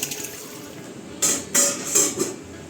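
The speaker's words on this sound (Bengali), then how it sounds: "চলো বন্ধুরা মাংসটা আমি ধুয়ে নিয়ে আগে ভালো করে" Tap water gushes in three short bursts while raw meat is rinsed clean, each splash close and moderately loud over a quiet room background.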